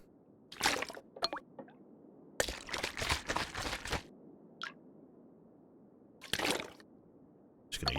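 Water purification in The Long Dark, heard as several short wet squishing, sloshing bursts separated by quiet gaps, including a brief drip-like blip, fairly close and alone.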